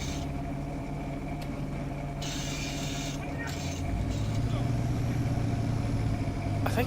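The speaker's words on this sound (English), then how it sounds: "That truck, Chevy, is so loud, but I love it." Chevy truck engine in the SpinTires off-road driving game, churning through mud in all-wheel drive, a loud steady drone that runs throughout and swells slightly near the end.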